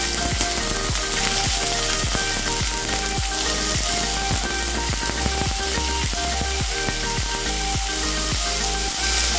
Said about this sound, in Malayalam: ഇത് നമുക്ക് ഈ ആപ്പിളും മുന്തിരിയും ഒന്ന് വഴറ്റി കൊടുക്കണം.